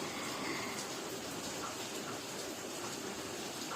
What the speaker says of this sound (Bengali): এখন খুব জোরে বৃষ্টি হচ্ছে